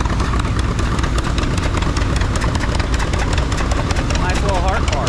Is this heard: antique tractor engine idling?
yes